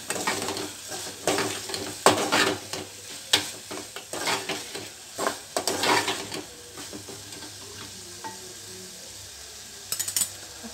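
Ginger garlic paste is stirred in a sizzling pan with a metal spoon, giving repeated scraping and clinking strokes over a constant hiss of frying, close and fairly loud, with the stirring easing off toward the end.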